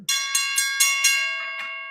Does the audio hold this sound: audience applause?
no